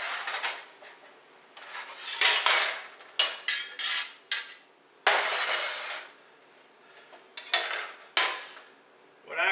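Browned ground pork tipped from a pan into a colander, with a run of separate metallic clanks, scrapes and clatters of utensils against metal, fairly close and loud, with short pauses between bursts and no talking.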